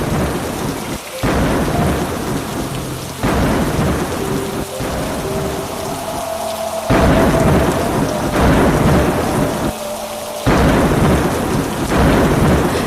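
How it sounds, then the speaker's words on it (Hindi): Heavy rain pours steadily in a cartoon storm, loud and dense throughout, with rolling thunder rumbling beneath it in several swells. "अचानक आसमान काला पड़ गया और ऐसी मूसलाधार बारिश शुरू हुई कि थमने का नाम ही नहीं ले रही थी"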